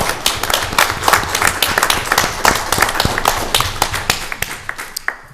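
At a Fishkill town board meeting, a small room of people gives a round of applause, with sharp, loud hand claps close by in an uneven patter that fades slightly near the end.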